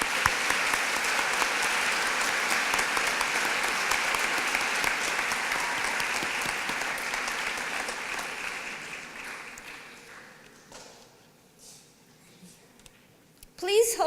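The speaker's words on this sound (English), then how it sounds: "Would you give them a big round of applause?" A commencement ceremony audience gives the orchestra a big round of applause, dense clapping that holds steady for several seconds, then thins and fades to near quiet, with a brief sound at the very end.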